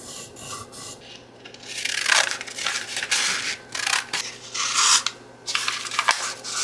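Scissors snip and crunch through a strip of printed book page, with rasping cuts in uneven bursts close by, separated by short pauses.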